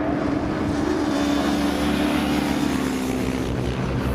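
Racing motorcycles sweep into the museum corner on a race circuit, a loud continuous engine drone with overlapping buzzing tones from several bikes passing close.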